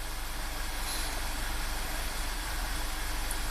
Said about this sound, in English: I still don't like that this thing is kind of surging at idle.